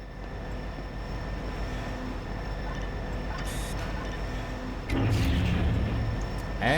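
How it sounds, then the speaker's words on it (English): Steady rumbling train ride in Garry's Mod, a continuous low rolling drone with faint high whine, growing louder and rougher near the end as clattering bursts join in. "let's start the train ride again"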